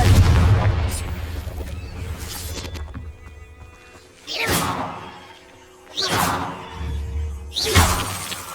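Blasting-spell explosions from the Confringo curse in Hogwarts Legacy: several loud bursting booms with whooshing sweeps and shattering debris, spaced a second or two apart over game ambience, with brief vocal calls between.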